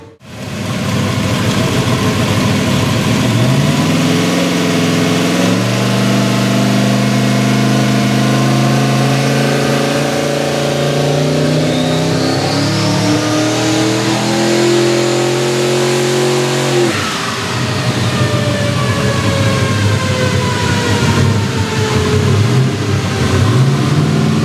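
A car's engine revs hard on a dynamometer during a power run. The pitch climbs in a long, loud sweep, drops sharply, then rises again, close and alone.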